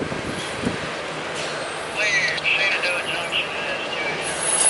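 Westbound CSX train approaching a crossing, a steady rumble with high wheel squeal and metallic screeches growing louder toward the end, heard with people talking nearby.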